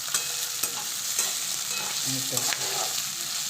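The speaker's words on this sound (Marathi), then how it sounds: "मिरची आपण कुटलेलं आहे ना त्याचं कांद्यात टाकून चांगलं परतून घेऊ" Crushed chilli and onion frying in a pan for an aghada wild-greens dish, a soft steady sizzle with a few light spatula scrapes and taps close by, no speech.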